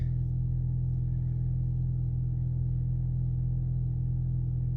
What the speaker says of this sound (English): I just listen to the car run.